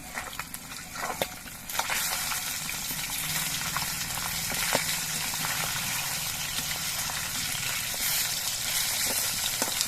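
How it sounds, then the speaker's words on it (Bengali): Pieces of catla fish frying in hot mustard oil, a continuous crackling sizzle with scattered sharper pops, fairly loud and close throughout. "সর্ষের তেলটাও ভালো মতো গরম হয়ে গেছে এবার মাছগুলো ভেজে নিচ্ছে"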